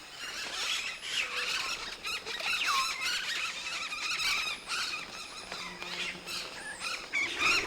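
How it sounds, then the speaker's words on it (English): Blue-and-yellow macaws and other parrots gather at a fruiting riverside site in the Peruvian rainforest, and a dense, continuous chorus of shrill squawks and squeals carries loud and overlapping throughout. "Blue and yellow macaws live here all year, but other members of the parrot family fly in, especially for the fruit."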